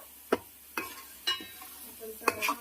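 A blended paste for homemade fish curry fries in a pan with a low, steady sizzle, broken by about five sharp spoon scrapes and stirs at uneven intervals.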